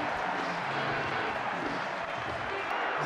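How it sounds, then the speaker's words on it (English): A rugby stadium crowd at an Italy versus Australia Autumn Nations Series match roars steadily, a dense, distant wall of cheering and urging beneath a commentator's voice. "The crowd now urging their compatriots"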